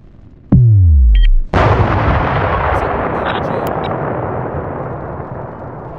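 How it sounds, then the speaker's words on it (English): Missiles launch in a naval combat game: a loud descending whoosh, then a heavy booming blast that rumbles and slowly fades, with faint clicks afterward. "Missiles away."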